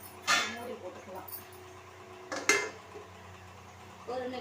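Metal lid set onto a cooking pot of simmering curry, two short clattering clanks a couple of seconds apart over a low kitchen hum, close and fairly loud, with another brief clink at the end.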